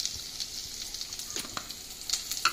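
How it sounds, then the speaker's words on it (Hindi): Onion, mustard seeds and chana dal crackle and sizzle in hot oil for lemon rice, a close, soft, steady frying hiss with scattered pops and small spatters, no talking. "प्याज डालूंगी, सरसों दाना और चना दाल।"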